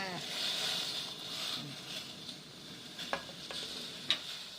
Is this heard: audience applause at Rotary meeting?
no